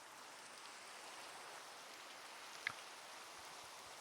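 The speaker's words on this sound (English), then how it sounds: "The rain falls." Rain falling in the video game Minecraft: a soft, steady hiss of rainfall, quiet and continuous, with one brief faint tick partway through and no talking.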